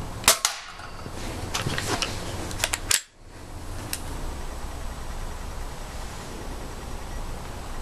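A QB78 air rifle fires a pellet outdoors at a target about 30 to 40 yards away: a few sharp, close cracks and clicks, the loudest near the middle, over a steady background hiss.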